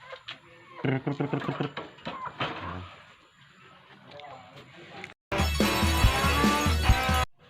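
Chickens clucking amid background voices and noise, followed by a loud, dense burst of clucking and squawking near the end.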